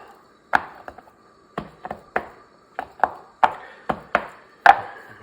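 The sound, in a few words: seasoned ribs being dabbed on a cutting board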